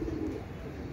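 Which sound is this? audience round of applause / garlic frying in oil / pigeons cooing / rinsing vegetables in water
pigeons cooing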